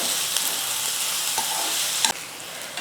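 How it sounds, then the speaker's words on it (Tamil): Chopped onions sauté in a pan for a spicy chicken fry, a constant loud sizzle broken by occasional spatula scrapes and knocks against the metal. "இந்த வெங்காயத்தை சேர்த்துக்கிறேன் வெங்காயமும் நல்லா கலர் வந்து மாறி வரணும் கோல்டு கலரில் வரணும்"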